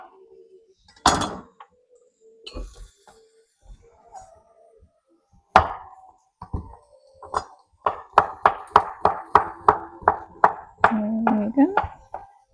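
Knife chopping potatoes on a cutting board while making potato soup, a run of steady, evenly spaced close chops following a few scattered kitchen knocks, with no talk.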